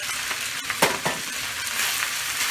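A sausage, egg, onion and bacon mixture for fried rice sizzles steadily in a hot pan, with a couple of brief louder crackles and stirring scrapes near the start, and no talking.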